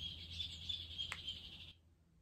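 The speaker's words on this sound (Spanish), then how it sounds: "¿Qué les pasa a esos pájaros?" Small birds chirp indoors, faint high-pitched cheeps repeating over a low background hum that cuts off abruptly near the end.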